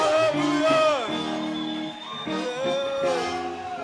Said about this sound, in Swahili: Pigia Bwana shangwe na vigeregere.